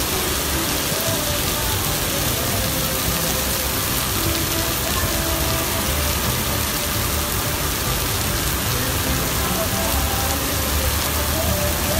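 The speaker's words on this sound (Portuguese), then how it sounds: "Meu Deus do céu, que chuva boa" Heavy rain pours down in Barueri, Brazil, a constant dense hiss drumming on surfaces at an outdoor event stage, steady and loud throughout with no clear break.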